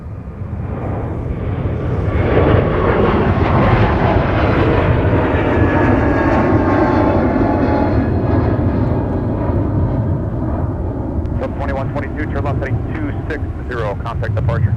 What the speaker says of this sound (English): Delta 2125 now departing to Los Angeles.